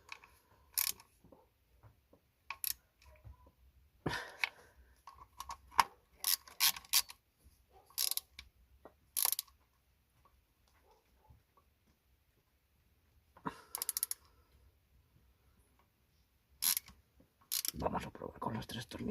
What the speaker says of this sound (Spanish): Vamos a probar con los 3 tornillos, a ver. Apretamos.